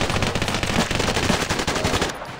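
Rapid automatic gunfire in the Standoff 2 shooter game, a dense, loud run of shots rattling steadily and close before cutting off near the end.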